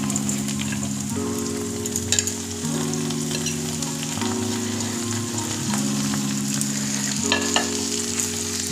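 Peas, carrot, capsicum and chopped tomato frying in a pan, a constant loud sizzle with a steady low hum and occasional clicks of ingredients dropping in.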